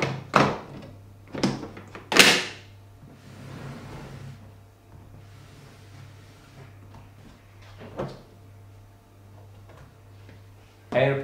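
A limited-edition Overwatch 2 x Porsche Xbox Series X console chest is unlatched and opened: a few sharp clacks and thunks of the lid and fittings, then soft rustling and handling, with a low steady hum underneath.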